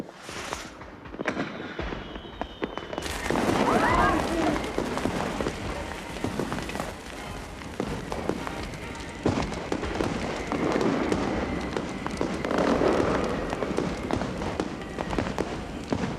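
Fireworks crackle and burst in a dense, continuous barrage for guests at an evening gathering, loud and fairly close, with overlapping pops and booms and no clear talk.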